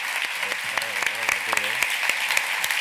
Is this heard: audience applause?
yes